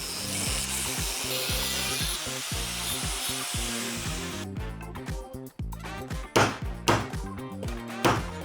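A saw cuts through a cheap motorcycle exhaust being shortened for a twin cutout setup on a 60 hp engine-swapped Himalayan, grinding steadily up close, then breaking into a few sharp, louder bursts toward the end.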